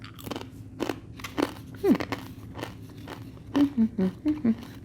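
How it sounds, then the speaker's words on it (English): Several sharp crunches and cracks of a crisp oil-free baked taco shell breaking, spaced irregularly, with a quick burst of snaps near the end. "But you can hear how crunchy that was."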